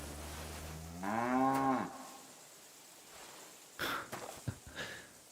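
A single low drawn-out moo from cattle in the medieval video game Kingdom Come Deliverance 2, fairly close, followed by quiet rustling and soft snorts.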